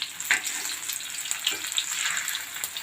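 Sardines (matthi fish) frying in a pan, a steady high crackling sizzle with small pops throughout, close and moderately loud, no talking.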